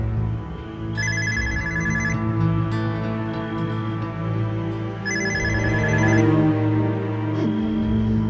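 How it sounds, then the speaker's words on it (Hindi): An incoming call sets off a phone ringtone indoors, two bursts of a bright repeating chime about four seconds apart over a sustained musical background score, with no talking. "रिदा का फोन है।"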